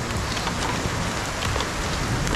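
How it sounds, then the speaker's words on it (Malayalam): Hail pelting a helmet during an ice-rain storm in Almora, Uttarakhand: a dense, steady patter of small hard impacts, close and continuous, with no talking. "ഹെൽമെറ്റിൻ്റെ മുകളിൽ ഐസ് വീഴുന്ന ടക് ടക് എന്നുള്ള സൗണ്ട്"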